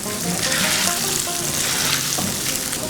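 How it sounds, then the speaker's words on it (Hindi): Rice tipped into a hot oiled pan for South Indian lemon rice gives a loud, dense frying hiss with rustling stirring, close and continuous, with no voices. "और ये गया चावल, ये हम डालेंगे ऑलमोस्ट 1 कप चावल, और मिक्स कर लेते हैं।"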